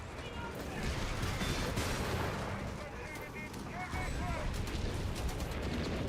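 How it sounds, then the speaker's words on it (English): An artillery barrage from an Obice howitzer in the strategy game Company of Heroes 3: rolling booms and crackling impacts layered over a continuous battlefield rumble, with muffled voices faintly mixed in. "Another barrage coming in here from the Obice."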